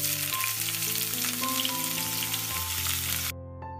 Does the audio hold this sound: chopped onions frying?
yes